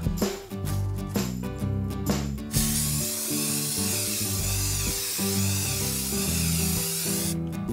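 Primer spray paint hisses steadily from an aerosol can onto a cheese grater resting on a board, a sustained close spray lasting several seconds over background music.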